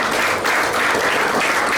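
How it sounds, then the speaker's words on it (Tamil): A crowd at a praise and worship gathering applauds, a loud, continuous wash of clapping hands that holds steady throughout. "இன்னொரு கைத்தட்டு கொடுப்போம்"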